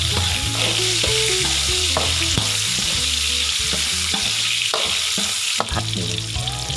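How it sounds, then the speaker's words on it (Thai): Minced pork stir-fries in a hot pan for a Thai morning glory and pork belly dish, with a steady loud sizzle and repeated scraping, clanking strokes of the spatula against the metal, close up and without talk. "การผัดหมูสับให้สุกก่อนครับ"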